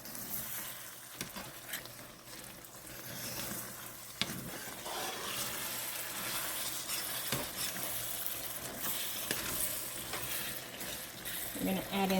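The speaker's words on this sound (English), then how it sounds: "And then we're going to add in the broth." Broth goes into a hot pan of Shepherd's pie filling, giving a steady, fairly quiet sizzle with stirring and occasional scrapes and clinks of utensils against the pan.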